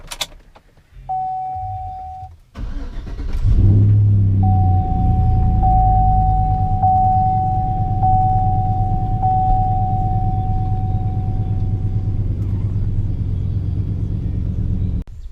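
A 2004 Chevrolet Silverado pickup cranks over and catches, then settles into a steady low idle rumble close by, with a faint high electronic whine running over it.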